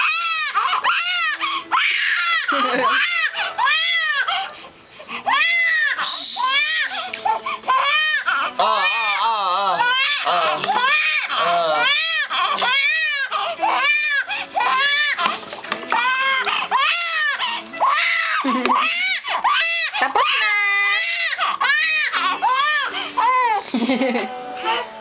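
A young child screams and wails in loud, repeated bursts while being bathed in cold water, rhythmic sobbing cries filling the whole stretch, with an adult occasionally talking underneath.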